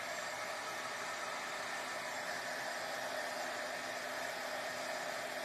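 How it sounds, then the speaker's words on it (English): Steady, even whoosh of a heat tool blowing hot air to emboss powder on a stamped card, continuous and fairly close with no talking over it. "I've got my heat tool right here. And I'm going to just emboss this real quick"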